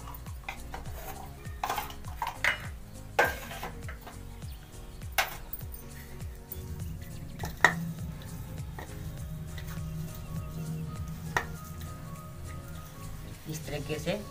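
A spoon stirs a spiced stuffing mixture of coriander powder and garam masala in a pan, giving scattered clinks and scrapes of metal on metal, with a voice faintly present underneath.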